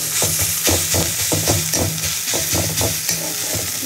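Food sizzles and fries in a pan as it is stirred after a little sugar is added, with steady rhythmic scraping strokes over a constant hiss, close and fairly loud.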